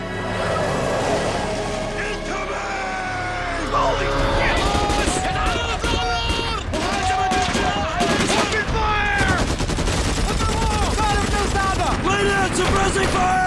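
Dense gunfire from a war drama, with rapid rifle and machine-gun bursts cracking nonstop over a constant roar of battle, loud and close throughout.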